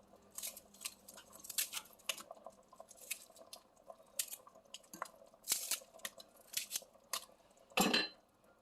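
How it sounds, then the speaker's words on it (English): Knife cutting through a roll of beef on a board, repeated crisp slicing and tapping strokes at an uneven rhythm, close and fairly quiet, ending with a louder scraping sound. "it's just this roll of beef and I'm just cutting it."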